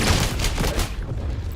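A frag grenade bursts amid rapid gunfire in the shooter game XDefiant, a short loud blast over dense crackling shots, close and intense.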